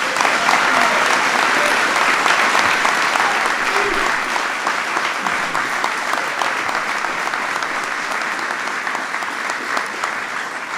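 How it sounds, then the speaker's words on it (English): Audience at a White House event honoring the 2016 NCAA champion Villanova Wildcats men's basketball team gives a player a big, sustained round of applause, dense and even throughout, easing slightly toward the end. "Give him a big round of applause."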